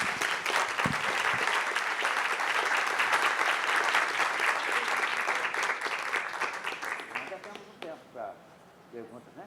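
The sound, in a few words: applause for speaker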